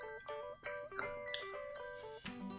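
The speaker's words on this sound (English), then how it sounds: "What is that beeping noise? On my watch, that old watch up there." An old wristwatch alarm beeps in quick repeated electronic chirps, a bright patterned melody cycling several times at close range, fairly quiet and with no talk over it.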